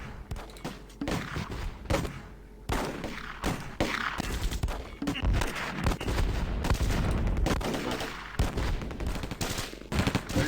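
MG42 machine gun fire in the video game Close Combat, with long rattling bursts and scattered shots nearly nonstop, some heavier thuds mixed in, loud and dense throughout with no talk.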